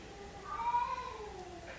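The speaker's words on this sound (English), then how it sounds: "It's my daughter's cat." A single drawn-out cat meow, fairly faint and somewhat distant, rising then trailing off over a quiet background hum.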